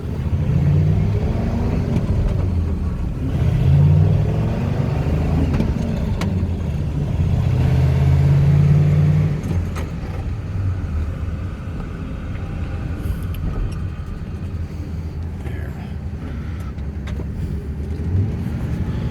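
A 2001 Ford F450 truck with a V10 engine and five-speed manual shifts gears, the engine droning and rising in short revving swells before settling to a lower steady hum, fairly close and with no talk.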